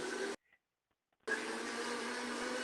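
Blender mixing a rum drink, a loud steady whirring motor that cuts out for about a second of near silence and then starts up again at the same level.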